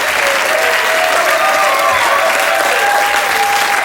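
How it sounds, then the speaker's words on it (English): Sustained, loud studio-audience applause on the 1992 game show Blockbusters, a dense steady roar of clapping that fills the whole stretch without any talk over it. "So give him another round of applause to take him back."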